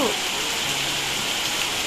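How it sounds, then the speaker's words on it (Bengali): Heavy rain pours steadily outside an open door, a dense continuous hiss with no breaks, fairly close and even in level throughout. "বৃষ্টিটা প্রচণ্ড বাড়ছে, আমি যে এখানটায় দরজাটা খুলে দাঁড়িয়ে রয়েছে না, প্রচুর ঝিট আসছে, আর বৃষ্টির আওয়াজটা দেখছেন কত"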